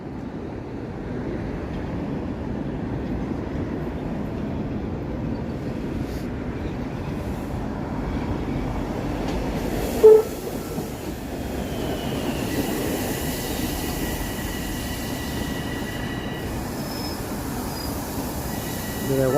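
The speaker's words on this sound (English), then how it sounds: "Train in Davisville Station." A Toronto subway train rumbles through Davisville Station, a steady low roll of wheels on rails with faint squeals and a sharp clunk partway through, heard from the platform.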